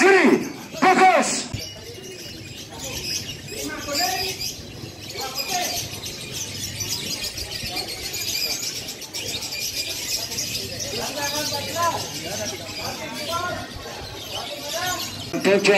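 Lovebirds at a bird-song competition in Bali chirp and trill in busy, overlapping bursts, with an announcer's voice talking over them through a loudspeaker and crowd noise around.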